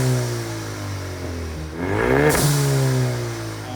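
A 2019 Ford Mustang EcoBoost fitted with a blow-off valve adapter, its engine revving up through the exhaust to a sharp rising peak before falling off, heard up close with no talk.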